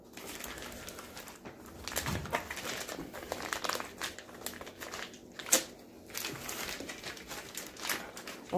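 Crinkly plastic rustles and crackles as an MRE bread pouch is torn open, close and busy in irregular bursts with a few sharper rips.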